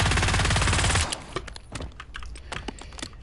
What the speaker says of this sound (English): So say I'm firing and I've got some recoil.